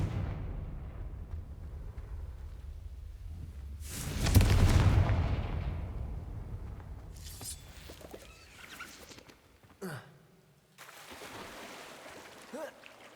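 A Confringo fire-blast spell goes off in the video game Hogwarts Legacy: one loud burst that swells and fades over a couple of seconds, followed by scattered smaller crackles and impacts.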